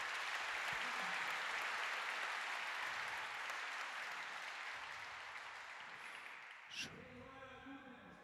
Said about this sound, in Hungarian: tapsoljuk meg őket.